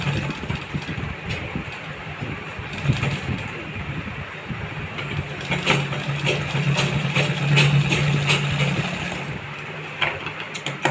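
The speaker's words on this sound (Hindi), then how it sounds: "देखिए मैं कैसे सिलाई लगाता हूँ।" A sewing machine stitches a back pocket close by, its motor a steady mechanical rumble with bursts of rapid needle clatter running for several seconds.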